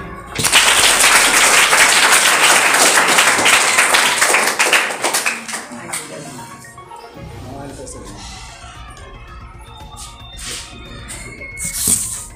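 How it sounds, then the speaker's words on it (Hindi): A school class claps loudly and densely for a correct quiz answer, a burst lasting several seconds before fading into quieter room sounds, scattered taps and voices. "बहुत अच्छा, ताली।"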